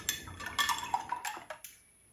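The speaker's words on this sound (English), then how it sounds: "I'm going to rinse this orange out of my angle brush" An angle brush holding orange paint is rinsed in a water container, giving a quick series of light clinks and taps against the sides that fade out into quiet.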